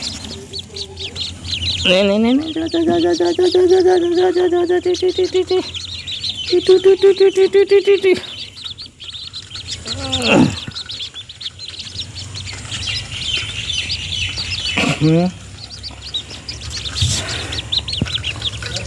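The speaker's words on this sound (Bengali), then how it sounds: "এই যে দেখেন হাঁসের বাচ্চা কিছু ফুটছে এখনও কিছু বাকি আছে" Newly hatched ducklings give faint, high peeping chirps throughout, while louder, drawn-out harmonic bird calls come in long bursts near the start and a few sweeping cries follow later.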